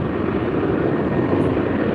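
An F-35 fighter jet flying overhead makes a dense, continuous low roar that holds steady and loud for two seconds.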